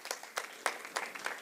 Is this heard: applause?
yes